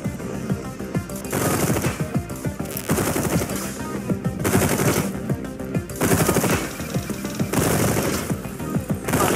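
Sustained machine gun fire from the real-time strategy game Tempest Rising, dense bursts of rapid shots rattling continuously over a battle with booming impacts, loud and close throughout.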